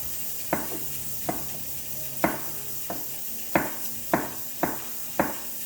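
A knife cutting peppers on a board: seven or eight sharp, separate chops at an uneven, unhurried pace, close and clear over a quiet background hiss.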